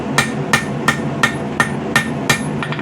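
Steady hammer blows strike a small seax knife blade on an anvil while it is forged, about seven sharp, ringing metallic hits at an even pace, close and clear.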